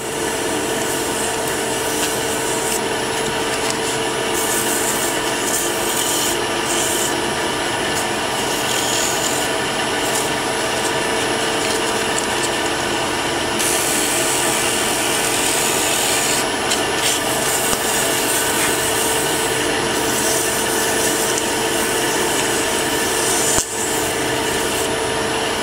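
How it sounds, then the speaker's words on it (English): A bowl sander works a turned Corian bottle stopper, producing a steady, close, continuous rasping hiss that drones on without a break and with no talking. "I've turned it and used the dreaded bowl sander on it, as I often do."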